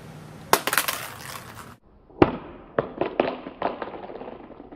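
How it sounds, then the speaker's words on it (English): An iPhone 6 Plus dropped on its side onto a hard surface in a drop test, giving a sharp clattering impact followed by a second crack and several quick, diminishing bounces and rattles, close and with no talk. "iPhone 6 Plus side drop test in 3, 2, 1."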